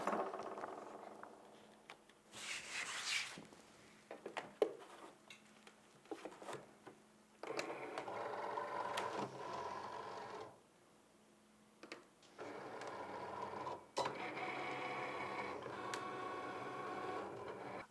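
A vinyl cutting machine slices heat transfer vinyl, giving a long stretch of whirring carriage movement with ticks, clicks and brief pauses as the blade travels back and forth close by.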